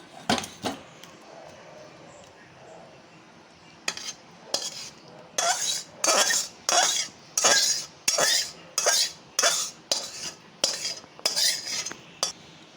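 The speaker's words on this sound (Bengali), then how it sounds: "এবার এটাকে আমি কড়াই থেকে নামিয়ে নেব।" A metal spoon scrapes aloo butter masala out of a kadai in a rapid series of about a dozen sharp, close scrapes and clinks, after a few scattered knocks at the start.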